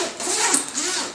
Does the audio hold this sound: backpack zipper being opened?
yes